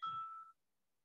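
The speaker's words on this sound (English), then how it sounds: "Sorry, my phone is ringing." A phone rings with a single short electronic chime, a bright tone with a brief tail that fades within half a second, then silence.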